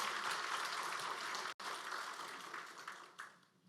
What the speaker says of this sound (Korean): 우리 감사의 박수 한 번 더 드리겠습니다